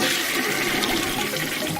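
A toilet flushes with a loud, steady rush of water that runs unbroken for nearly two seconds, close and filling the space with no voices over it.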